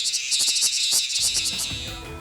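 A cicada's high, shrill buzzing pulses in a rapid rattling rhythm, close by, with some low rustling and handling noise toward the end.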